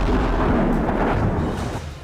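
A deep, rumbling blast from bombs dropped in a Russian drone attack on Kyiv at night rolls on as a broad roar that fades toward the end.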